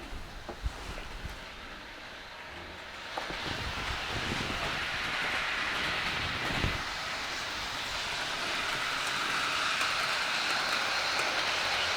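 A Hornby Smokey Joe model locomotive runs along its track with a soft continuous whirring hum that builds and then holds steady, with faint clicks early on.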